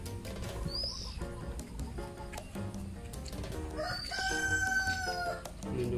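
A rooster crows loudly nearby over a busy, noisy background, with bird calls and clucking mixed into the steady din.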